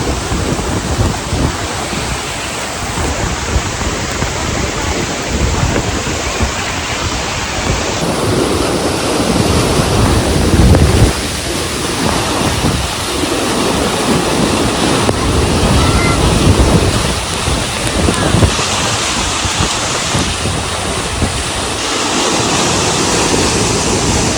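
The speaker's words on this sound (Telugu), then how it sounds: "వెనకాల వాటర్ ఫాల్స్ చూసారా?" Tarabu waterfall pouring with strong flow, a loud, steady broadband roar of crashing water that fills the whole clip, close by, with no talk over it.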